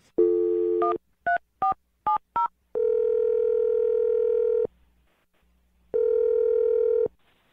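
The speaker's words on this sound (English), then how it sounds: "I'm going to dial the phone number right now, okay?" A telephone dial tone cuts off into a quick run of five touch-tone keypad beeps, then the steady tone returns twice in long blocks with a silent gap between, clear and close with no talking.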